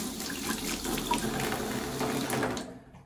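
Water runs steadily from a faucet fed by a hose into a sink drain during a home renovation, a continuous close splashing hiss that cuts off abruptly near the end.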